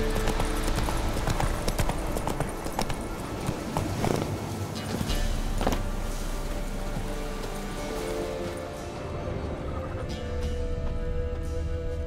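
Hooves of Roach, the horse in the video game The Witcher 3, clip-clopping in a steady trotting rhythm, close and loud over continuous ambient background.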